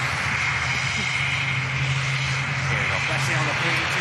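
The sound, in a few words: aircraft touching down on runway 23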